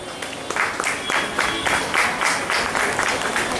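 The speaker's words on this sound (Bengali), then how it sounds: "আপনারা একটু করতালি দেবেন।" Audience applause at an Independence Day evening function of a housing society in Hindmotor, a lively sustained round of clapping from a crowd with distinct rhythmic bursts, loud and close, with no speech over it.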